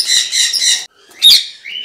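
Parrots in a breeding facility in Bursa give loud, close, harsh squawking calls in two quick bursts, then a sharper shriek after a short pause, with no talk.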